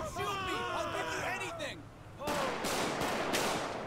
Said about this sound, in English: Bro, who just opened fire?